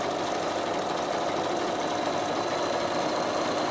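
A Bernina sewing machine runs steadily with a twin needle fitted, giving a continuous close mechanical hum and rapid stitching rattle that holds at an even level throughout.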